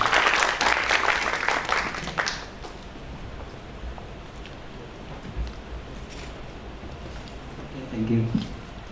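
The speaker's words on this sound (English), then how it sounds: "big applause for Professor Dr." Applause from a conference audience greeting a professor invited to the stage at an international materials and metallurgical engineering conference, fairly loud for about two seconds before fading into quiet room tone, with a brief voice near the end.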